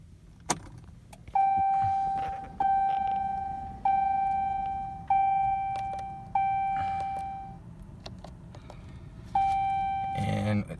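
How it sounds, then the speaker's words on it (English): A 2018 Dodge Ram 3500 diesel pickup's ignition is switched on, followed by a series of six clear dashboard chimes at regular intervals, each ringing and decaying, with a brief pause before the last one and faint key and cabin noises. "You're going to turn the ignition on."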